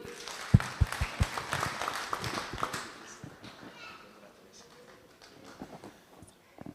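At a church self-help group annual general meeting, a small gathering gives a short round of clapping that fades within a few seconds, followed by scattered knocks and faint voices.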